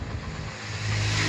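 Engine of a motorbike under way on a foggy day in Bahawalpur, a steady mid-pitched drone with road rumble that swells slightly louder toward the end, no voices.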